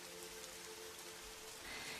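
Gentle, light rain falls steadily with a soft, even patter of fine drops, faint and constant throughout with no voices.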